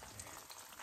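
Spring rolls deep-frying in oil, giving a faint, steady sizzle and crackle of bubbling oil throughout, with no talking.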